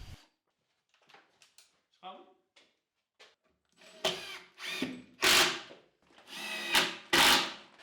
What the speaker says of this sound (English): I drilled some holes, countersunk them and drove in the hand selected screws.